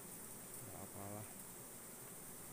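Giant honey bees (odeng) hum near their large nest, a faint low insect drone with a brief stronger buzzing burst in the middle, under a steady background hiss.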